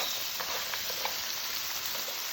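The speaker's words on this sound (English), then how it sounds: "are sizzling in the skillet. So we're gonna let those continue to sizzle here" Steady, close sizzling and crackling of halibut and crab claws frying in a hot skillet, continuous with faint pops and no talking.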